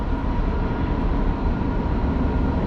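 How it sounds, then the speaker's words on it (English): Trains rolling past near an urban swamp behind a mall at night: a steady, loud, low rumble that holds without a break, close by, with no voices over it. "it is beautiful how there's just trains coming by"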